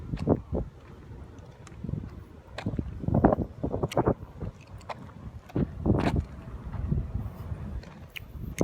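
Gusty wind buffets a microphone outdoors on a warm afternoon, coming in irregular rumbling bursts of varying strength with quieter gaps between them.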